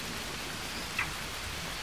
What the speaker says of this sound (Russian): Так, наступил дождь.